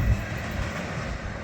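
A CSX freight train rolls past outdoors with a broad, steady rumble and faint wheel clatter, fairly loud and close, with no voices.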